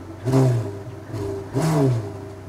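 A car engine revs hard twice, each burst surging loud and then dropping back to a rumbling idle between them.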